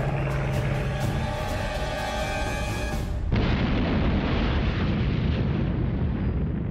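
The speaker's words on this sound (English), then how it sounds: "Close to 1 million pounds of gunpowder detonates, tearing the ship apart." A documentary-style effect of a bomb blast tearing apart the USS Arizona at Pearl Harbor: a loud, dense roar runs for about three seconds, then shifts abruptly to a deep, rumbling low-end boom that sustains to the end.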